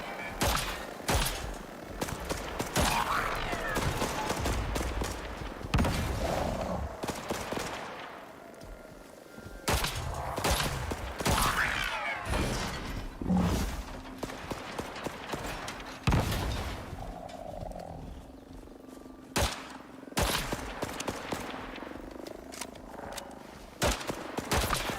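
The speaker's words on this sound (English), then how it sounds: "I have the upgraded pistol, the advanced one" Gunfire from an advanced pistol in the survival video game Icarus, with dense bursts of loud shots and mechanical clatter repeating throughout and brief pauses between volleys.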